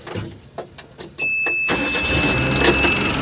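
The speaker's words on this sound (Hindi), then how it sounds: "गाड़ी को स्टार्ट करते हैं" A Tata Hitachi Shinrai BX80 loader is started: a few short cranking bursts and clicks, then the engine catches and settles into a loud, steady close-up idle, with no talking.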